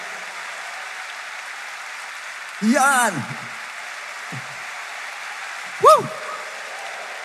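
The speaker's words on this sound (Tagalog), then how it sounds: "Yan ang palakpak na gustong gumaling talaga." Steady clapping from a congregation at a worship service carries through the whole stretch, with a couple of loud shouted whoops rising above it.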